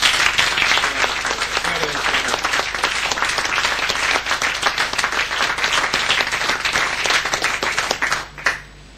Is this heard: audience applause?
yes